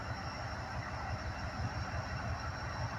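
A switcher locomotive pulls a string of grain cars past at close range, a steady low rumble with rhythmic rolling thumps from the wheels that holds at an even loudness throughout.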